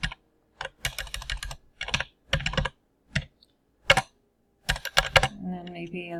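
Code typed on a computer keyboard in short bursts of close, clattering keystrokes separated by pauses, with a voice speaking near the end.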